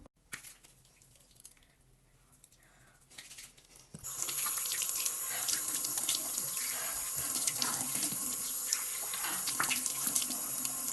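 A bathroom tap runs steadily while someone washes their face, starting quiet for a few seconds and then gushing loudly and continuously into the sink.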